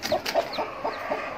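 An Aseel hen clucks softly beside newly hatched chicks, a short run of evenly spaced, close clucks and faint peeps.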